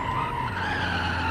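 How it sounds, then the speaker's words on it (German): Tires of a Dacia Logan skid through a handbrake slide in the BeamNG.drive driving game, a continuous loud screech with steady engine drone, close and unbroken with no speech. "Jetzt schön Handbremsslide."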